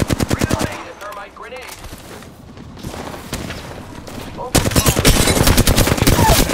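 Rapid automatic gunfire from a Ballistic loadout in Apex Legends on the Olympus map, loud, close bursts at the start and a dense volley near the end, with quieter game noise between.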